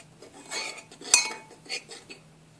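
A spoon or whisk stirs baking powder, salt, onion powder and garlic powder together in a bowl, giving light scraping strokes and a sharp clink near the middle, close up and without speech.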